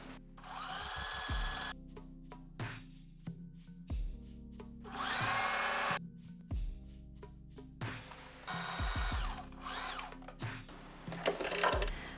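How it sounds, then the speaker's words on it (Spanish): A sewing machine runs a zigzag stitch on stretched elastic for a reversible bikini. Short bursts of whirring, rattling stitching alternate with brief pauses and handling noises, close and fairly quiet. "y ahora voy a coser con zigzag estirando el elástico a medida que coso"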